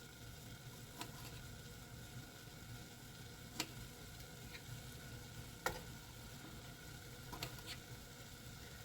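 Chopped green tomatoes sizzle quietly in a pot of chili, a soft continuous frying hiss with a few scattered clicks and pops, faint and close.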